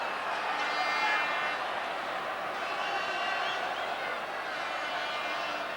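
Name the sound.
football stadium crowd noise rising at a corner kick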